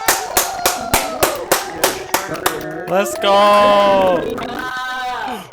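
Applause for a guest speaker at the end of an online alumni speaker-series talk: steady, evenly spaced claps, close and loud, for about three seconds, then a voice calls out and drawn-out vocal sounds follow.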